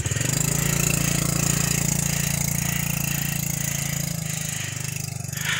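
A small underbone motorbike engine strains uphill under the weight of two riders, a continuous loud mid-pitched drone with a rattling edge that holds steady throughout and eases slightly near the end.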